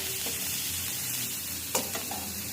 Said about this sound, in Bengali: এখন এই যে অল্প আছে শাকটাকে ভেজে নেব।